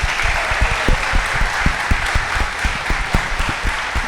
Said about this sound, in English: give yourself a round of applause, Houston